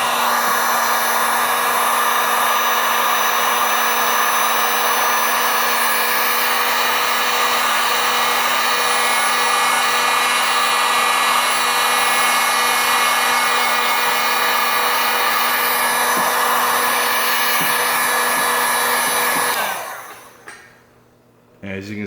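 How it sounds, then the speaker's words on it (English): A heat gun warming vinyl wrap blows a steady, loud, close whirring roar for about twenty seconds, then cuts off near the end. "if you have a heat gun, you take your heat gun to it, let it warm up"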